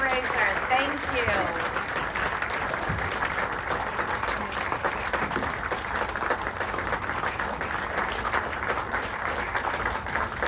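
A festival audience at a Hellraiser screening claps steadily throughout, a dense even wash of applause with a voice briefly speaking over it at the start.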